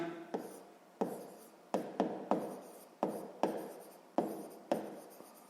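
Someone writes an answer by hand during a sixth-grade maths exercise, a quiet pen scratching on paper up close in about ten short, separate strokes, each one fading quickly, with no talking.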